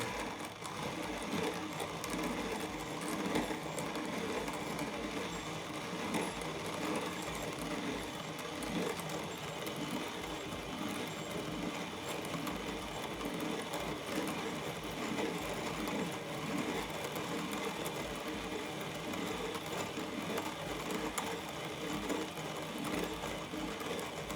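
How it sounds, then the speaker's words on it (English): Weber Workshops HG-1 hand coffee grinder crushing 20 grams of coffee beans, a steady, continuous mechanical whirring and grinding with fine rattling texture, close and unbroken throughout with no speech. "Now that we've ground the coffee, we can remove the tumbler"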